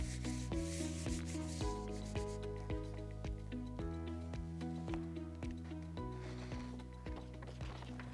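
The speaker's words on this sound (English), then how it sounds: "So just lay it down carefully and rubbing." Paper rubbed by hand over a painted bird print makes a continuous soft, scratchy rubbing with short repeated strokes, heard under tonal background music.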